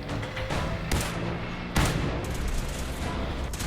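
Gunshots in the Fallout 4 video game, two distinct loud cracks about a second apart over a dense, rumbling battle din, heard close.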